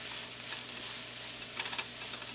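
Grated radish cooking in a pan over high flame for mooli paratha filling, a soft continuous sizzle with a few faint stirring scrapes near the end, no voices.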